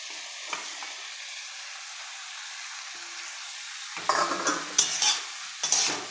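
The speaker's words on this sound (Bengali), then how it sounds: "এভাবে নেড়ে চেড়ে নিচ্ছি একসাথে।" Fried hilsa pieces are stirred with spices in oil for a tangy hilsa dish with bitter gourd and potato. A quiet, even sizzle runs first, then scraping spatula strokes grow louder over the last couple of seconds.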